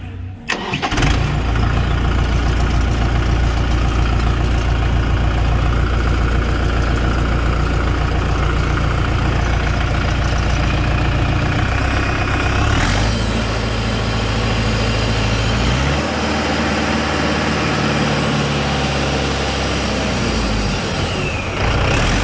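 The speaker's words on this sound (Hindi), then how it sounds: "तो आपको आवाज़ दिखाते हैं इस ट्रैक्टर के अंदर कैसी क्या इसकी आवाज़ है" Diesel engine of a Mahindra 585 DI XP Plus 50 HP tractor cranks and fires, then settles into a loud, steady idle close by, with a brief shift in tone partway through.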